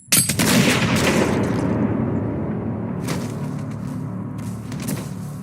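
Gunfire from a war horror film: a loud, sharp burst opens, then a rumbling decaying echo follows, with a second, fainter shot about three seconds later.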